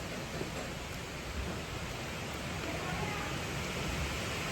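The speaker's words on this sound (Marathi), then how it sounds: "मस्त बाहेर पाऊस पडतोय" Rain falling outside as a faint, steady hiss with a low rumble underneath, continuous and even throughout.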